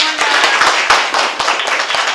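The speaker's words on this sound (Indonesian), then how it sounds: "tepuk tangan buat semuanya." Schoolchildren in a physical education class clap their hands, a fairly close burst of quick, uneven claps with distinct sharp hits over a couple of seconds.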